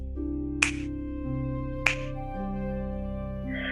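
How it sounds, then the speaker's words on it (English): Two crisp finger snaps, about a second apart, ring out sharply over a sustained, low harmonic drone of meditative music. "when I snap my fingers, first left and right"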